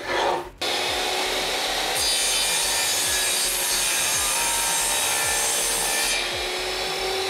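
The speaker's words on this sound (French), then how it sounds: "tu n'as plus qu'à les faire coulisser comme ceci pour faire tes coupes" A Ryobi RTS1800 table saw makes a miter cut, its motor whining loud and close while the blade rasps steadily through wood for several seconds, with a brief spin-up at the start.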